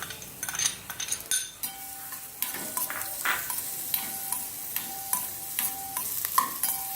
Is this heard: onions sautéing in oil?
yes